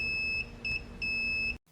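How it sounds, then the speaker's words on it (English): A multimeter on continuity test beeps during a check of the switch on a 1963 Craftsman bench grinder, giving three steady high-pitched tones in a quick on-off rhythm before cutting out. "When you complete the circuit, the meter should beep."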